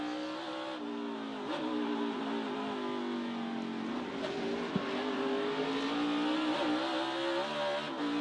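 A Toyota race car in a NASCAR Xfinity Series race drones from an onboard position, its engine note steady and rising with throttle over several seconds, with a brief sharp knock partway through.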